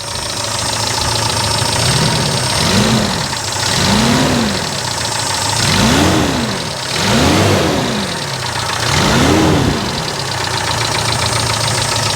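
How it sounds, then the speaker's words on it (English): A Daihatsu Feroza engine idles loud and close, a steady mechanical drone with light top-end ticking from the lifters and rocker arms and a slow, rising and falling swell. "so it's got a little bit of top end noise. Probably just the lifters, the rocker arms."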